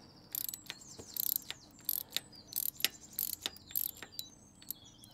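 A Torx 30 driver loosens the clutch lever fitting on a motorcycle handlebar, giving a run of sharp, close metallic clicks and ratchet-like ticks in irregular bursts over a quiet background.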